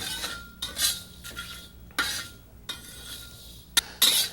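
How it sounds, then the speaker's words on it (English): Whole spices being dry roasted in a wok and stirred gently with a metal utensil, with several separate bursts of scraping and clinking against the pan between quiet gaps. "Now we're going to ever so gently dry roast these spices until they go a slightly darker colour"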